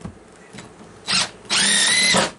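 A power drill drives large screws into a shop floor during repair, two short loud whirring bursts close by, the second longer with a rising whine before stopping.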